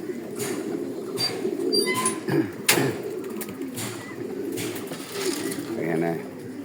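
Pigeons kept in a home loft coo in soft, repeated throaty phrases, fairly close, with a few brief chirps and faint clatter mixed in around them.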